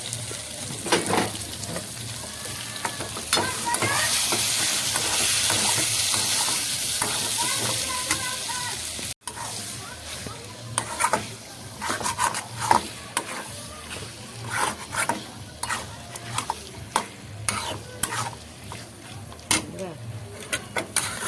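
Mutton fulko sizzles in spiced oil in a pan, a steady hiss with intermittent scraping and clinking as it is stirred, moderately close and continuous.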